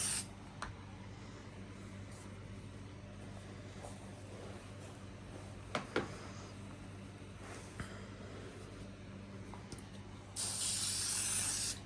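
Spray adhesive being applied to cushion batting: a soft, low hiss running steadily in the background with a few faint clicks and rustles, then a louder, sharper burst of spraying near the end.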